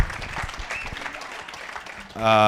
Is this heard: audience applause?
yes